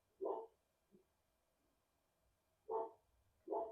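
A dog gives three distinct barks with a faint low grunt after the first, nearby and fairly loud against quiet indoor background.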